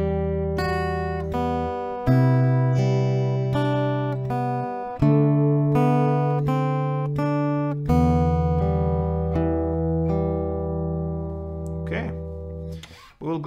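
An acoustic guitar plays the first half of the melody of a song: clear plucked single notes over held bass tones, shifting through several chord changes in a steady, unhurried rhythm, close and alone with a soft rustle at the end.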